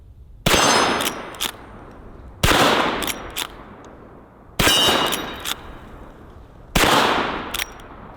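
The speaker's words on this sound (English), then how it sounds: "this is the Ranchand 44 Magnum, and this thing is a lot more pleasant to shoot than a 44 Magnum revolver" A Ranchand .44 Magnum handgun fires four loud, close shots spaced about two seconds apart, each a sharp blast followed by a ringing decay and faint metallic clinks.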